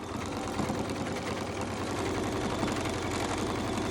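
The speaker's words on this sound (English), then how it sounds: "I'm trying to move my quilt top with an even amount of speed as my machine is going" A sewing machine runs steadily while machine quilting a quilt top, a continuous fast rattling whir with rapid needle chatter, close and even throughout.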